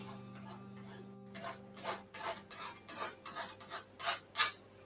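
A palette knife scrapes across wet paint on a canvas, dragging blue-shaded paint to form snow in an Everest landscape painting. The result is a string of short, dry rasping strokes, close and fairly quiet, that grow louder toward the end, with no talking.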